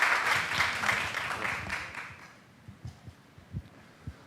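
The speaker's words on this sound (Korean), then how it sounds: "우리 강사 목사님 위해서 박수 한번 하겠습니다." A church congregation claps for a visiting guest pastor, a moderate wash of applause that fades after about two seconds into a few scattered, isolated claps.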